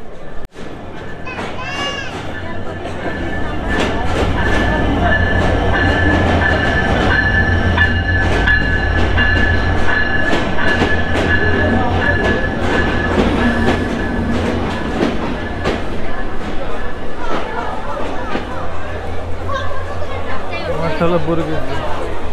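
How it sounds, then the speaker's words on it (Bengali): A passenger train arriving at a station platform, its carriages rumbling and clacking loudly and steadily with brake squeals, while people talk over the noise. "এই যে আমাদের ট্রেন কিন্তু অলরেডি চলে এসছে"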